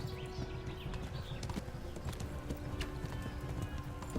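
Horse hooves galloping in the video game Kingdom Come: Deliverance, a steady rhythmic clip-clop of hoofbeats at a fairly quiet level with faint ambient background throughout.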